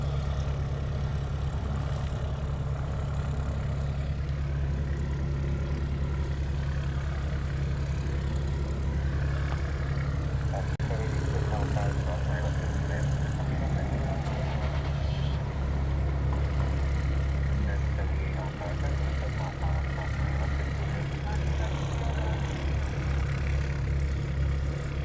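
Virgin America flight 270 airliner at Honolulu airport, a steady low engine rumble and whine close by, continuous for the whole stretch without talk.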